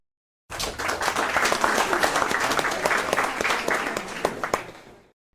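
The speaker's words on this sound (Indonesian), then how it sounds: "Boleh tepuk tangan dari rumah ya untuk Dr. Siti Setiati." Studio audience applause on an Indonesian health talk show, a dense burst of clapping that starts suddenly, holds steady for about four and a half seconds, then stops.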